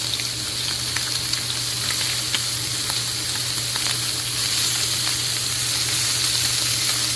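Low-carb burger patties fry in a pan beside bacon, giving a steady, close sizzle and crackle that holds evenly throughout with small pops, and nobody talks.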